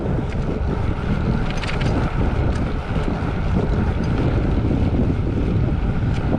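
Loud, constant wind buffeting a GoPro microphone while riding a Jupiter Discovery X5 electric folding bike at speed, a roaring rumble with no talk, steady throughout.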